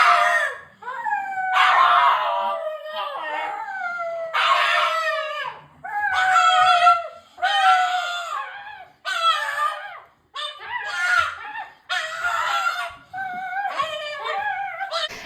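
A pug dog makes a string of odd, strained vocal noises. They come in repeated bursts with short pauses between them and sound near and fairly loud. They carry a warbling, crow-like quality, and no speech is heard.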